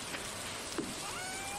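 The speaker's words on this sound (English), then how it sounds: "so it's raining today" Steady, soft rain patters on the ground in a farming video game, with a faint continuous hiss and one small blip midway, heard alone with no talk.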